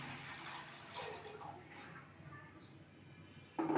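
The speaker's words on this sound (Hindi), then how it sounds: "अब 1 ही किलो हम उसमें पानी डालेंगे।" Water pours into a pot holding a kilo of sugar while making syrup for gulab jamun, a soft, faint trickling and splashing that runs steadily, ending in a louder burst.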